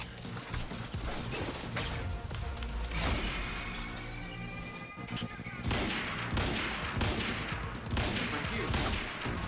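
Gunfire in the video game Quantum Break comes as loud bursts and crashing impacts amid a busy, layered action soundscape, with speech mixed in.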